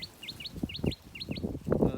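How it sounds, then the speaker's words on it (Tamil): A small bird repeats quick, high chirps in a steady series, with rustling and soft knocking noises underneath, close by. "குருவி ஒன்று கட்டி கேட்குது."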